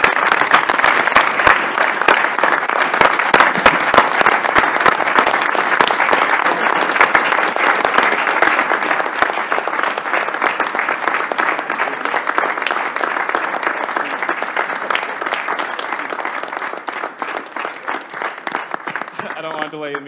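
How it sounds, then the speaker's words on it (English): A meeting audience gives sustained, loud applause for faculty and staff, a dense continuous patter of many hands that holds steady for about twenty seconds before tapering off. "let's give a round of applause to the faculty and staff"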